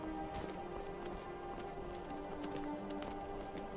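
Horse hooves clip-clopping at a steady gait in Skyrim, quiet and fairly close, with soft rhythmic thuds over a low game ambience.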